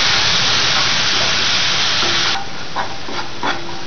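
Spices sizzle and hiss loudly in a pan after a spoonful of water is added, with a few soft scraping stirs near the end as the sizzle eases.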